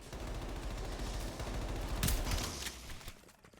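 Shotgun fire in Call of Duty Black Ops Cold War zombies mode, heavy rumbling gunfire and blasts that run continuously, with a sharper burst near the middle and a sudden hit at the end.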